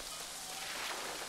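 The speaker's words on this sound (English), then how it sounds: "It's raining out here, man." Brief, steady hiss of rain falling in the New World video game, a soft, even wash of drops with no thunder or voices.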